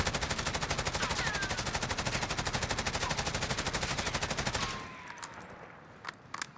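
Bruen MK9 assault rifle in Call of Duty Warzone sprayed in one long, rapid, steady automatic burst at close range, then cut off and followed by quieter trailing clicks and tail.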